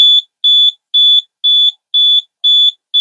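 A fire alarm module emits a high-pitched electronic beep in steady, evenly spaced pulses, loud and piercing, with silence between each tone.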